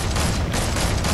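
Gunfire in Fortnite arrives as a loud, dense burst of shots filling the whole brief moment, harsh and close with no gaps.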